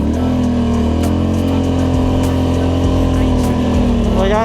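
A Polaris Scrambler ATV engine pushing through deep blizzard snow holds a loud, close, steady droning note with a humming overtone, and its pitch rises briefly near the end.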